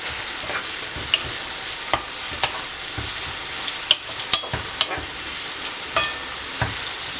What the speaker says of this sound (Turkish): azıcık da tat acı olan toz biberimizi ilave edip karıştırıyorum